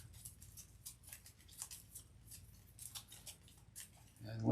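Playing cards from a tabletop board game are shuffled, with soft rapid riffling and flicking bursts in an uneven rhythm, close but quiet, ending in a louder thump.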